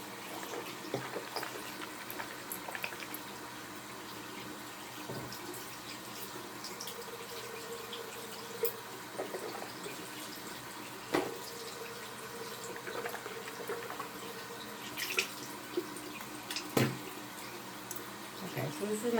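Glued-in dentures are rinsed under a running bathroom tap, a steady close rush of water with faint splashes and drips throughout.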